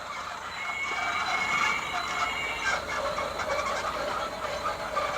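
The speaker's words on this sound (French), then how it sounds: "vous voyez les deux trains en fonctionnement." Two small toy trains run together on a Christmas decoration display, giving a steady close mechanical whir and rattle with faint clicking over a low motor hum, continuous throughout.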